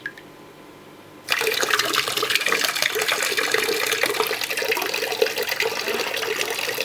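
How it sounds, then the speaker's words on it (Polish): A Na Fy 06 aquarium filter starts up after a quiet second, then pushes out a steady, close, rushing splash of flowing water that continues without a break. "Może być troszkę głośnawo, jak ta woda zacznie zasuwać."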